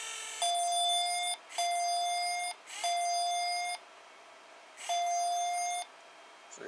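An automatic soap dispenser on weak, running-down batteries beeps as it is switched on, giving four long, clear electronic tones, each about a second, separated by short gaps, in a quiet room.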